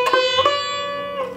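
A single guitar string bent and sustained, the note wavering slightly off pitch as it rings for about a second before sliding, close and clear.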